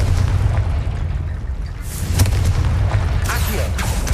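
Spell explosion from the Confringo curse in Hogwarts Legacy, a dense booming burst over a low rumbling game backdrop, with a voice calling out the spell's name.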